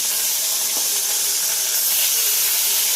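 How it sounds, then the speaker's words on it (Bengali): Fish sizzles steadily in hot mustard oil in a wok, a loud, even frying hiss that fills the whole moment with no talking. "মাছগুলো এখন ভেজে নিচ্ছি,"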